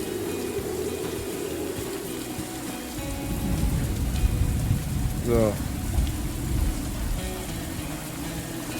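Rain pattering in a rainforest in the game Morels: The Hunt 2, a steady wash of drops that swells in the middle, with someone talking over it and a brief chirping creature call.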